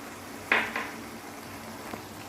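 Bottle gourd and prawns are stirred in a frying pan, with a couple of sharp scraping clinks from the utensil against the pan over a soft, low background sizzle.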